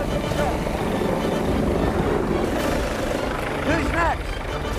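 Steady, loud rotor roar of a rescue helicopter hovering nearby, winching men up from a sinking ship, with rushing wind noise and a voice briefly heard beneath it.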